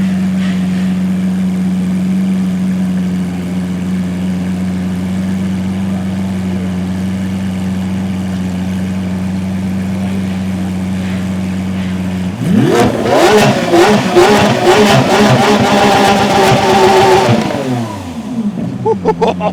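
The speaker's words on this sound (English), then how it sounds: "Give it a rev." A supercar engine idles with a steady low rumble for about twelve seconds, then revs hard in several loud rising and falling bursts before dropping back toward idle, close by.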